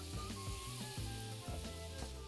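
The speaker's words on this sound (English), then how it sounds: "And that sizzle sounds good," Butter sizzles in a hot pan ready for chicken thighs with herbs and garlic, a steady close crackle with tonal background sounds running through it.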